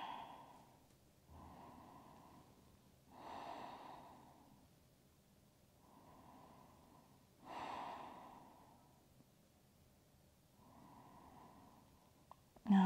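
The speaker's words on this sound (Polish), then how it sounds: "I oddychamy." Slow, deep breaths from a person during a vinyasa yoga flow, about five or six soft, airy inhale-exhale cycles at a calm even pace, quiet and close with no talking.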